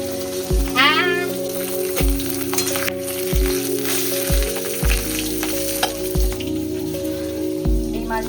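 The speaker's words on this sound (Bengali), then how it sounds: "আর ওই মাছ ভাজা।" Rui fish fries in a pan with a continuous loud sizzle, broken by regular low knocks from stirring or turning at intervals of about a second, with no talking.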